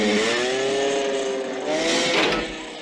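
A Yamaha XT250 motorcycle in a Rambo film scene rides down a street, its engine droning steadily and loudly with a brief rising surge near the end, no talk.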